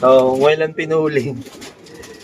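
A racing pigeon coos in low, throaty rolling bursts close by, with a short spoken remark overlapping the calls.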